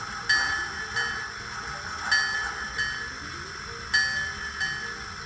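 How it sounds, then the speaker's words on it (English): A sound-equipped N scale NYC Hudson model steam locomotive rings its bell in evenly spaced metallic dings, about six strikes, each decaying quickly over a faint background hum. "Bell."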